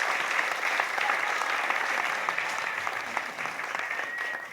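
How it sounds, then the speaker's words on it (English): An audience claps continuously in a dense, even patter of many hands. The applause is fairly loud and steady throughout, with no talk over it. "So much clapping. It's like a cricket match."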